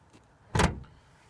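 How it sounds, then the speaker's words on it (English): A car door swings shut once inside a vehicle, a single solid thump near the mic with a short broadband burst, then quiet cabin ambience. "close the door."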